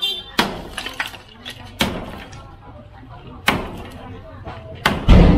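During a house demolition, wooden beams and debris crash down in several loud, sharp impacts spaced seconds apart, with clattering in between, while people talk nearby.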